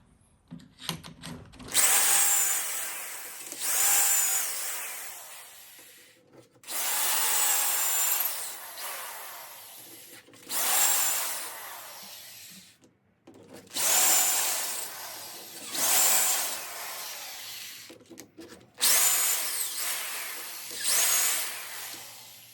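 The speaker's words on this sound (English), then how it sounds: "It's my corded drill with the stop collar." Corded drill fitted with a stop collar boring into wood, several loud whirring bursts of a few seconds each, separated by short pauses as the bit is pulled out and repositioned.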